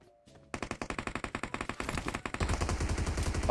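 Rapid automatic gunfire from a PUBG match on the Erangel map, loud and close: a steady burst of evenly spaced shots that grows denser and heavier toward the end, with no talk over it.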